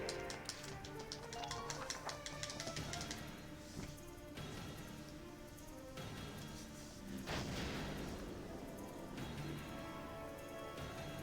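Mortar fire in Valkyria Chronicles, with sharp impacts and crashing bursts at intervals and a game soundtrack running underneath throughout.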